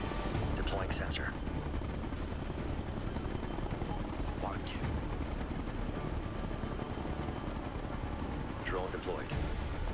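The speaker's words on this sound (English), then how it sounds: "I think that helicopter landed" A helicopter in the video game Ghost Recon: Future Soldier, its steady low rotor drone running under game sounds and a player's quiet talk throughout.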